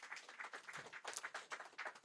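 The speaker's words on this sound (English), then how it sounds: "Another round of applause." Applause from a seated audience at a business chamber economic outlook event in London, as a panelist takes his seat: a dense, steady patter of many hands at moderate level, filling the short stretch without voices.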